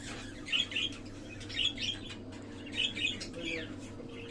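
Cockatiels calling in a home balcony breeding aviary, with short bright chirps in a few repeated bursts, fairly faint over a steady low background hum.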